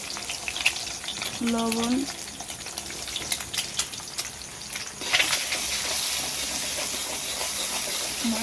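An egg sizzling in a soot-blackened wok over a clay stove while chow mein is cooked. The frying hiss is loud and continuous, with stirring scrapes, and a voice speaks briefly over it.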